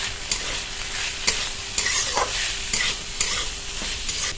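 Potatoes with spices, salt and turmeric fry in a pan with a continuous hiss, while a spatula scrapes and taps the pan at regular intervals, close and fairly loud, with no voices.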